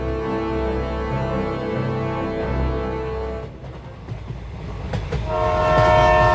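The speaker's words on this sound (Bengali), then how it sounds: "দ্রুত গতিতে ছুটে চলা ট্রেনটা পৌঁছে গেল সেই সেতুর উপর" A train speeds onto a bridge with a sustained horn blast, then the rumble thins to rattling wheels before the horn sounds loudly again.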